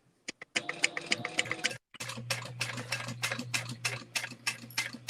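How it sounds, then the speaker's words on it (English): A sewing machine back stitching at the corner of a fabric bag runs in quick, even ticking bursts, pausing briefly partway before resuming its steady close, rhythmic stitching. "You're going to go right on that little corner point and back stitch."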